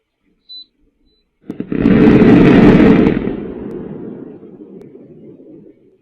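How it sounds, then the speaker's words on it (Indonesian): A loud unexplained boom at night in Cianjur, West Java, recorded by a home CCTV camera: a sudden heavy blast after a short quiet stretch, then a deep rumbling roar that slowly fades over several seconds. "Suara keras yang diduga dentuman menghebohkan warga di sejumlah wilayah Kabupaten Cianjur, Jawa Barat pada malam hari."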